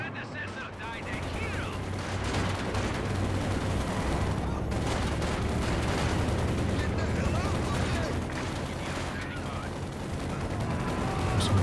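Machine gun fire and other gunfire in a Company of Heroes 2 match, a dense continuous battle din of bursts and rattles with rumbling low noise, loud throughout.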